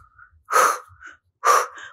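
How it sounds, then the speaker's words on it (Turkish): Two sharp inhaled breaths during a beginner Pilates exercise, close and clear, each a quick gasp-like intake followed by a softer exhale, spaced about a second apart in a quiet room. "Nefes aldık."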